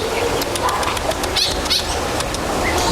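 Birds chirp and call in short bursts over steady outdoor background noise, with a few brief fluttery sounds mixed in.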